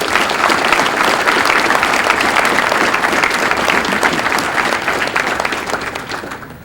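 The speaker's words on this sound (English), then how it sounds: "Can I get a round of applause for the friends and family of the recruits here tonight," A large audience at a Jefferson College law enforcement police academy graduation breaks into loud, sustained applause for the recruits' friends and family, dense steady clapping that fades slightly toward the end.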